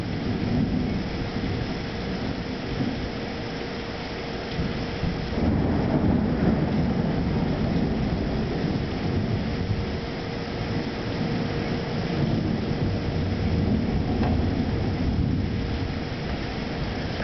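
A thunderstorm on the Mississippi coast brings a continuous low rumble of thunder mixed with steady rain and wind noise, with no voices.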